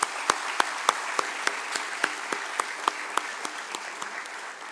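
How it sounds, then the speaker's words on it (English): A hall audience at the Tata Chemicals 75th anniversary celebration breaks into loud, sustained applause to welcome board members, with sharp individual claps standing out at a steady, almost rhythmic pace over a dense wash of hand-clapping. "thundering round of applause"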